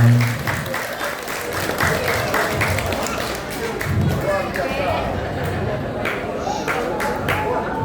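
Audience applause and cheering after a model and designer fashion showcase at a village anniversary celebration, sustained clapping from a crowd with chatter and voices over it throughout.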